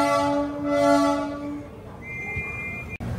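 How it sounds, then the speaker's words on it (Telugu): A local train bound for Chengalpattu at Chennai Beach station sounds a long, loud horn blast, then a shorter, higher tone follows amid station rumble, ending with a brief sharp click. "చెంగల్పట్టు వెళ్ళే లోకల్ ట్రైన్"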